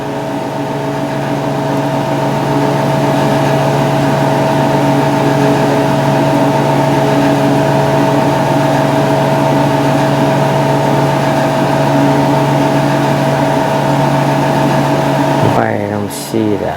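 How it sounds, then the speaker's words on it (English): An Audi Q5 engine idles with a misfire, a steady loud hum with fixed tones running throughout, cut off near the end by a brief clatter. "Let's see the engine running."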